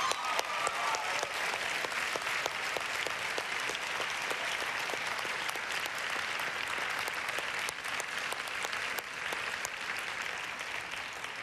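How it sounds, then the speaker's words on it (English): Audience applause at a pageant: a long, sustained burst of many people clapping, dense and even with sharper individual claps standing out, continuing without any talk. "Let's give them all another great round of applause"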